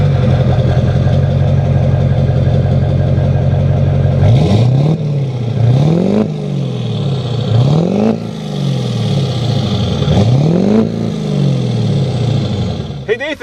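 A pickup truck fitted with an MBRP performance exhaust idles with a deep, steady rumble, then is revved in four or five sharp blips, each rising and falling back, loud and close.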